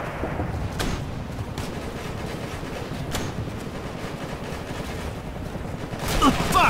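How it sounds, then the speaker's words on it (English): Sustained gunfire in the military shooter Operation Flashpoint: Red River, a dense rattle of rifle and machine-gun shots under occasional sharper cracks, growing louder in the last moment, with voices faintly mixed in. "We're getting shot at!"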